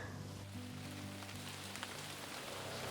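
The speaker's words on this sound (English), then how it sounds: "That is rain." Light rain sprinkling outdoors over a yard, a steady soft patter of drops with no voices, alongside a low steady hum.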